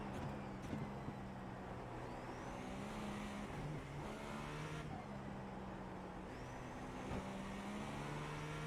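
Acura ARX-06 prototype race car in the iRacing sim at Sebring: a continuous engine drone with rising and falling pitch through gear changes and braking, steady and fairly loud with no talk over it.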